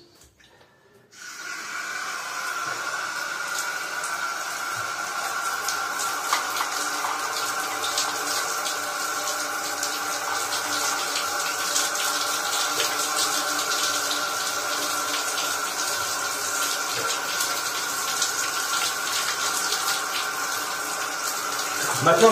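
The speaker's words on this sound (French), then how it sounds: "Le temps que vous avez fait partout les vagues, vous pouvez directement venir rincer." Water runs continuously from a tap while hair is rinsed, a loud steady splashing rush starting after a brief quiet moment and holding for the rest of the stretch, with no speech.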